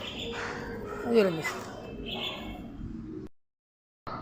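A pet myna bird calling and mimicking human speech, its chirpy, voice-like squawks close and fairly loud before the sound cuts to brief silence near the end.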